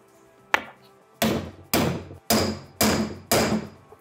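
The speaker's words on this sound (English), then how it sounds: "And now we have to set the fixing using the correct setting tool. For that, you will need also the club hammer." A club hammer drives a setting tool into a fischer EA II drop-in anchor, one light tap followed by five loud, evenly spaced metallic blows with short ringing decays, close and alone.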